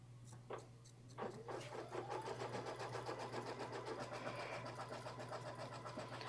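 A sewing machine runs a zigzag tack-down stitch, a steady rapid needle patter with a low motor hum underneath, close and alone after a brief quiet start.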